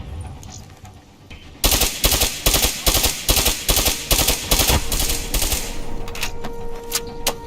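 Rapid automatic gunfire in Call of Duty Black Ops 3, a dense burst of loud, evenly spaced shots lasting several seconds after a quieter start, then tapering into scattered shots.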